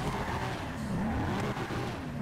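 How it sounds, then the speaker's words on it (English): Tuned 1000 hp Nissan R34 drag car in GTA 5 spinning a donut, tires squealing continuously under a droning engine, steady and fairly close with no talk. "Just do a quick donut over here."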